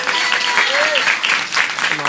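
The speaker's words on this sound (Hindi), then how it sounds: "जोरदार तालियां बजाएं।" Applause from a church congregation during an evangelical sermon, a steady dense wash of clapping for about two seconds with no speech over it.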